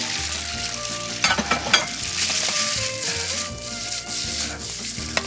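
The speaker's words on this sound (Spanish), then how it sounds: "La gula a la sartén." La Gula del Norte sautéing in a frying pan, a steady close sizzle and crackle throughout with occasional scraping knocks of a utensil stirring.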